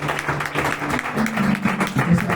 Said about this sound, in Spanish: le das un aplauso al Rey de Reyes